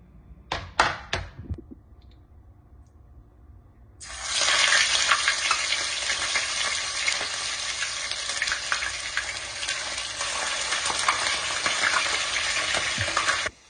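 Chopped ingredients fry in a pan, a few sharp knocks and clatters first, then a loud sizzle bursts in and continues strongly with stirring scrapes to the end, no voices.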